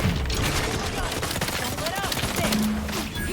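Rapid gunfire from a weapon emptied in one long burst in the video game The Outer Worlds 2, a dense close rattle of shots running for a few seconds with faint game sounds around it.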